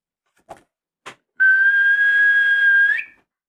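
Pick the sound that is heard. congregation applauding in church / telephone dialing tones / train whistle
train whistle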